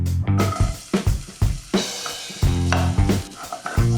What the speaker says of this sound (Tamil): எண்ணெய் சூடானதும் இந்த பொடியா கட் பண்ணி வச்சிருக்கிற வெங்காயத்தை அதில் போட்டுடலாம்.